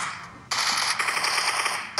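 Automatic gunfire in the mobile game PUBG Mobile, a dense crackling burst that begins suddenly and keeps going, loud and close, with another short burst at the end.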